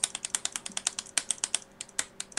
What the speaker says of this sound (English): What are you clicking, Mike?